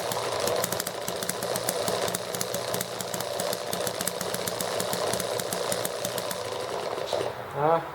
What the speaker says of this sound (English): I'm going to fire up the rest of these engines and see how long they run this morning.